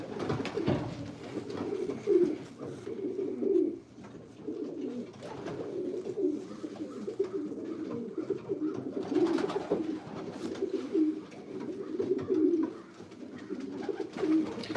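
Pigeons in a loft give a steady chorus of low, rolling coos that rise and fall in overlapping phrases, close and continuous, with no talk over them.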